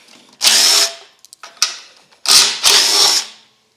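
A power drill whirs in short bursts as it backs small quarter-inch screws out of the cover of an Ariens machine. Four close, loud spins come one after another with brief pauses and clicks between them.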